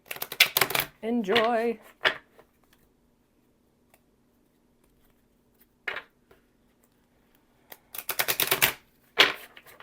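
Rapid riffling bursts of an oracle card deck being shuffled, a short burst at the start and more near the end, separated by quiet, with a brief voice early on.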